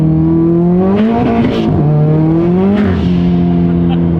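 A built Subaru STI engine drones steadily at close range, rising and falling as the throttle changes, with sharp two-stroke-like kickback bursts around the gear changes and faint voices inside the cabin.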